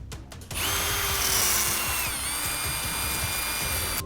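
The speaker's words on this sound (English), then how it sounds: "maybe what I should do is put it in the drill." A power drill whirs steadily at high speed while cleaning a tool accessory, after a few brief start-up bursts, loud and close, with no talking.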